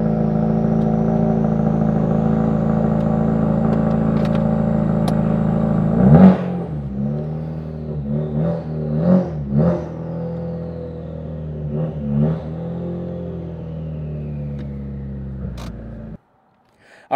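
Close-up idle of a 2017 Ford Focus RS with an MBRP downpipe and exhaust, a steady rumble for several seconds, then a few sharp throttle blips and revs before the engine cuts off near the end.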